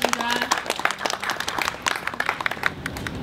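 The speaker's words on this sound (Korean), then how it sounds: "여러분 함께 박수 해주시기 바랍니다." Audience clapping at the opening ceremony of the 640 Art Tower, a brief round of applause from a modest crowd, steady and close with no speech over it.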